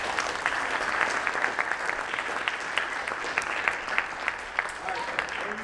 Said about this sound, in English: let's give a round of applause to the students